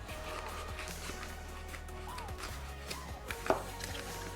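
A big kitchen knife slices through halved cherry tomatoes held between two plastic lids, a faint crisp cutting sound with one sharper snap near the end, under quiet background hum.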